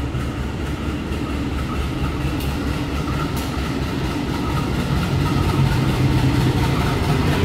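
A commuter train rumbles steadily as it enters a busy Jakarta station at night, with a continuous loud low roar and faint rail clatter throughout.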